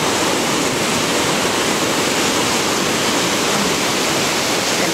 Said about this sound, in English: Got a good 10 foot waves coming in,